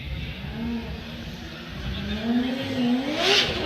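A Nissan S15 Silvia drift car on Falcon tires revs at a Formula Drift qualifying event in New Jersey, its engine note rising and falling and then climbing again, heard from some distance over steady crowd and track ambience.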